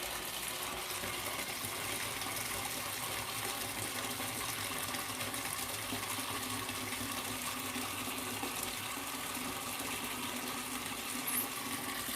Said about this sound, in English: All right, so I'm gonna fill this bucket up.